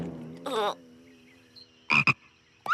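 A cartoon frog croaks in a few short, loud, close bursts separated by pauses. A sustained tonal hum runs underneath and no one speaks.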